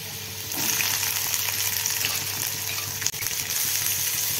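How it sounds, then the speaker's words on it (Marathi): Onion sautéing in a pan with cumin seeds and ginger-garlic paste gives a steady, close frying sizzle. The hiss runs continuously with faint stirring scrapes and one brief dip, and no talk. "आता कांदा परतून घ्यायचा।"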